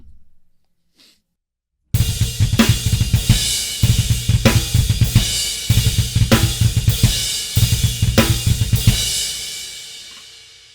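A drum kit plays a heavy, repeating pattern with the snare in the middle position, loud and close with steady rapid kick-driven pulses and regular sharp snare hits, after about two seconds of near silence.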